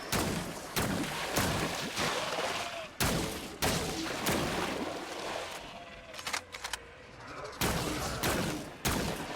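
Gunfire in the third-person shooter Scars Above: a string of loud, regularly spaced weapon blasts with some brief crackling bursts between them, heard up close and with no voices over them.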